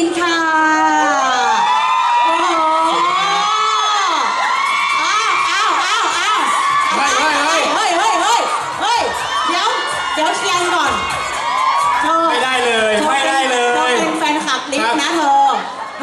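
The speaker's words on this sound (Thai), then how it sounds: "ขอเสียงปรบมือให้กับเชฟไก่ค่ะ" A live crowd cheers, whoops and shouts loudly in welcome for chefs at a stage event, with excited voices rising and falling continuously over the whole stretch.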